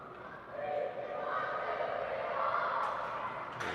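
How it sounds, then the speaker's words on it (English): A U10 youth ice hockey team lets out a loud group celebration cheer at the rink before heading to center ice, a sustained chorus of young voices that swells quickly and holds steady for several seconds. "Celebration cheer to get them pumped up here as they head to center ice"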